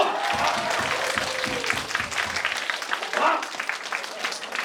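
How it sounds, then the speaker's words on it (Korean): A church congregation claps in a steady, dense burst of applause that fills the room, with voices and talk mixed under the clapping. "박수!"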